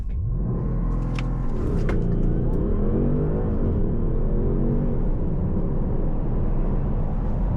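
A car launches hard from a dead stop with launch control in sport mode and manual, its engine roaring loudly as revs climb through rising gear pulls, close and with no talk.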